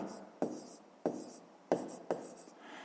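Hand-writing numbers during a fifth-grade math exercise, with four distinct pen taps and scratches on paper spaced about half a second apart, close and quiet, with no talk.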